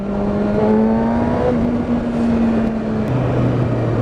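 A 2015 Kawasaki ZX-6R 636 motorcycle engine drones steadily at part throttle on the road, a loud sustained hum that slides slightly in pitch, under heavy wind rush with no talk.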